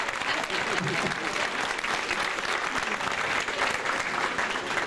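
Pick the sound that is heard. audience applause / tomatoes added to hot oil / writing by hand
audience applause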